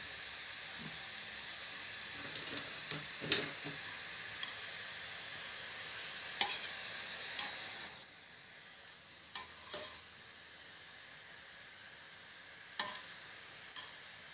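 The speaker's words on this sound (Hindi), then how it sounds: "इसे हम 1 से 2 मिनट तक इसे हम भूनेंगे कि ये मुलायम हो जाए।" Vegetables being sautéed in a pan at home before carrots are added, giving a steady low sizzle with scattered clinks and scrapes of stirring, quiet and close, no talking.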